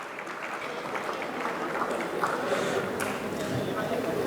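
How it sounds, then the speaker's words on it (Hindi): An auditorium audience at a Panchgavya medical conference in Tirupati applauds to honour the guests, a dense, moderate-level patter of many hands that continues steadily throughout. "तालियों के साथ अतिथियों को आदर करें।"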